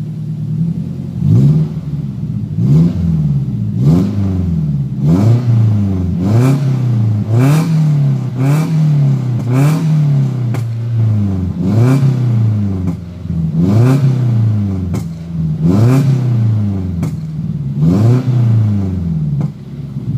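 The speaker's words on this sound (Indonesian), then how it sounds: "Guys, kita dengarkan suaranya sambil jalan." Daihatsu Gran Max with an Alpino aftermarket exhaust revving repeatedly while driving on the street, loud rising and falling engine sweeps in a steady rhythm, each rev followed by a short gear-change dip, close and without talk.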